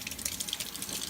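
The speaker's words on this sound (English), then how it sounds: "So once you've washed it off with cold water" Cold tap water runs steadily over kefir grains being rinsed, a close, continuous splashing gush with small irregular spatters.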